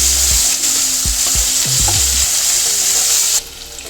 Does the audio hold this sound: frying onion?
yes